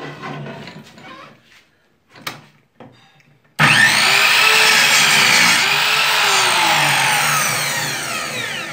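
A Vonder cut-off saw is switched on after a few quiet handling noises and bites into the workpiece with a loud, sustained abrasive whine and grinding that gradually eases toward the end.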